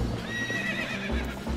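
A horse in Zelda Twilight Princess whinnies loudly with a rising, wavering neigh while hooves clop along underneath, game audio with no talk.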